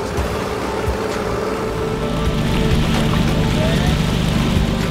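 A longtail motorboat engine drones steadily on the Bengalon River in Kalimantan, with faint voices now and then beneath the constant motor noise.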